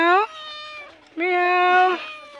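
A cat meows twice, up close and clear, with a short pause between the two drawn-out cries, outdoors in a quiet mountain setting.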